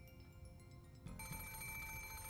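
A telephone rings in the video game Umineko When They Cry, a faint electronic bell tone that starts partway in and sustains at a low, even level.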